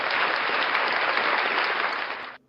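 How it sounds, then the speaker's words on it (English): Audience applause at a live show, a loud, even burst of many people clapping close by that stops abruptly after about two seconds. "Ladies and gentlemen, round of applause for Frauditor News Network."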